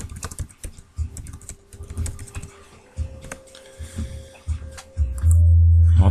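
Computer keyboard typing comes in bursts of quick clicks, close and moderately loud, with a steady low hum swelling near the end.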